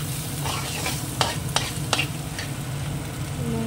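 Cracked eggs sizzle in a hot pan with a little fried vegetable for chowmein, a steady close frying hiss broken by a few sharp spatula scrapes and taps, with no talking.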